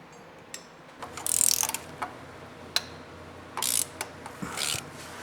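A 3/8 inch ratchet with a long socket clicks in short bursts while turning a bolt on a 2022-2024 Subaru WRX during header installation, with quick pawl rattles separated by brief pauses and single knocks, close and clear.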